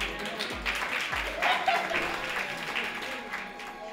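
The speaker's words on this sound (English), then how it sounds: "Give them another round of applause." An audience applauds for two young boxing students, a sustained patter of many hands clapping at moderate loudness, with some voices mixed in beneath.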